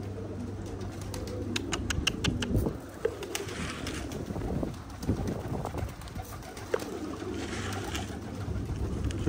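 Pigeons cooing in a low, steady murmur outdoors during a pigeon hunt, the soft coos running under broadband background noise with a few faint higher chirps.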